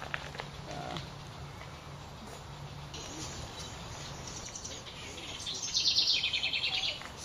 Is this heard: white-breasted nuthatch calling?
yes